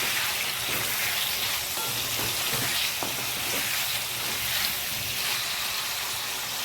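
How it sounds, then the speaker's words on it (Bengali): Paneer frying in oil with turmeric and salt gives a soft, steady sizzling hiss throughout, faint and even, with a few small pops and taps. "সামান্য একটু হলুদ আর একটুখানি লবণ দিয়ে আমি পনিরটাকে ভেজে নেবো ভালো করে"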